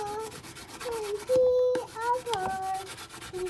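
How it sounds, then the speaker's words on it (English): A pen blank coated in Crystalac finish gets a light level sanding, with soft rubbing strokes close by and a person talking briefly over the sanding. "it's time to do a light level sanding"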